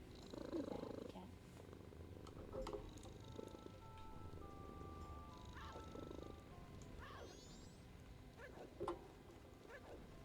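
A contented house cat purrs continuously at close range, a soft steady rumble that runs under music and chimes, with a few quiet voices and handling noises around it.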